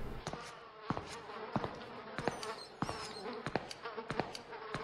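Flies buzz in the horror video game DreadOut, a continuous close insect drone broken by frequent sharp clicks and ticks, with no talking.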